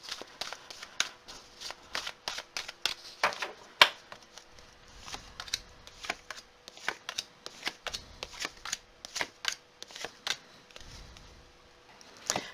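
Tarot cards being shuffled by hand, a steady run of crisp riffling flutters and soft slaps close to the mic, with no talking.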